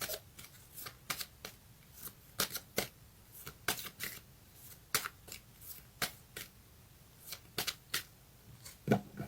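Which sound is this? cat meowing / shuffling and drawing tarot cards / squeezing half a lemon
shuffling and drawing tarot cards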